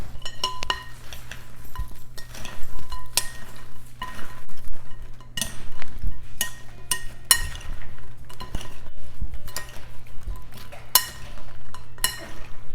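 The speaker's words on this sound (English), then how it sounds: "So we'll go ahead and add this yummy crispy ciabatta bread." Crispy ciabatta cubes are tossed into a bread salad with balsamic dressing, giving repeated clinks and scrapes of utensils against a bowl, close and busy, with no talking.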